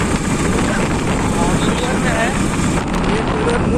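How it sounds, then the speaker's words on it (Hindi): Motorbike carrying three riders toward a shoot location near the Abdul Bari (Koilwar) bridge by Ara, with a steady, loud engine and wind roar throughout and someone talking over it. "एक बाइक पे 3 लोग जा रहे हैं लोकेशन पे"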